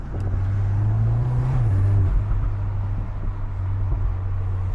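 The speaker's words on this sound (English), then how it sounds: "you should be able to hear all that air sucking in for the turbo" Inside a VW Golf R MK8 on the road, a loud, steady low drone of engine and turbo intake air rushes continuously, swelling briefly in pitch before settling, with no talking.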